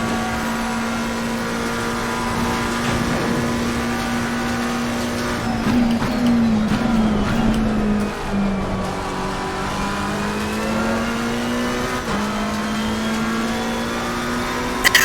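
A McLaren race car lapping Bathurst in a racing video game, its engine holding a steady loud drone that rises and dips with gear changes and throttle, close and continuous with no talk.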